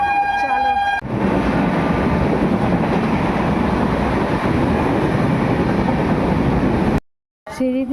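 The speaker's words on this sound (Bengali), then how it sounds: "ট্রেন থেকে নেমে পড়েছি, এবার হচ্ছে টোটো ধরবো" A train at a railway station gives a loud, steady rumbling roar for several seconds before it cuts off abruptly near the end.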